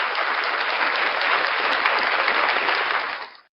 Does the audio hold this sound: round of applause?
yes